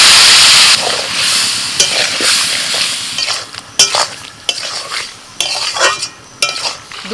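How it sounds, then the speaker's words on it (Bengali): Close, loud stir-frying of spices and red chilli powder with a little water: a hissing sizzle with repeated scraping strokes of a spatula across a pan in an uneven rhythm, no talking. "একটু জল দিয়ে কষিয়ে নেবো"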